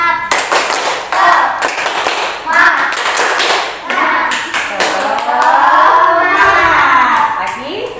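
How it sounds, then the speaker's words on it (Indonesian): Children in a classroom do a rhythmic patterned clap, sharp group claps and taps in bursts, mixed with children's voices and chanting, loud and close, with a sustained vocal passage near the end. "Lagi. Tepuk semangat."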